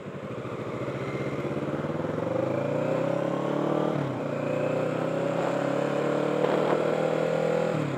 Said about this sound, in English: 4 people on a scooter, 2 of them toddlers, and he doesn't have his headlight on, and he's driving at night